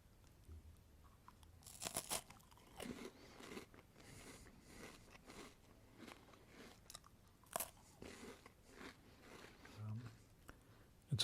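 Crunchy strawberry cream wafer rolls are bitten in a few sharp crisp cracks, followed by quieter close-up chewing and crunching, all soft and near with no talking.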